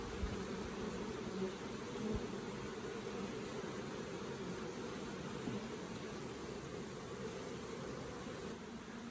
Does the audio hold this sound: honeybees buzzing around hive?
yes